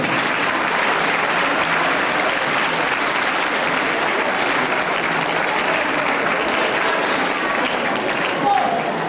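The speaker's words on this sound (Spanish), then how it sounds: "Un aplauso, por favor." Sustained applause from an audience at a Galician ceremony as a representative of the Xama de Casa is introduced, a dense, even wash of many hands clapping at steady loudness throughout.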